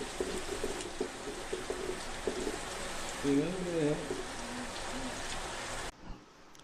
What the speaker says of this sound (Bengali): যেমন আজ করছে যেমন বৃষ্টি নামছে